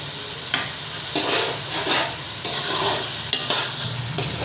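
Potatoes sizzle in a pan while being stirred, with a continuous close frying hiss and several distinct scraping strokes spaced a second or so apart.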